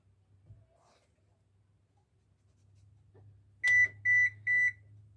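An oven's control panel gives three short, clear electronic beeps in quick succession as it is set to its lowest temperature, over a faint low hum in a quiet kitchen.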